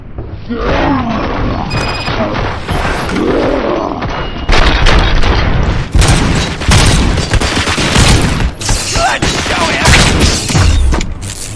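Heavy gunfire in the RoboCop: Rogue City video game: loud, dense bursts of shots and booms keep going the whole time, with a rough battle din behind them and brief voices mixed in.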